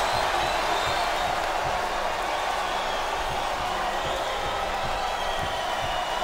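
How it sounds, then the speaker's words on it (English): Arena crowd in a WWE wrestling game during a Last Man Standing match at No Mercy: a constant, broad wash of crowd roar and murmur with faint thuds from the ring, steady and unbroken throughout. "This capacity crowd is making their opinions known tonight."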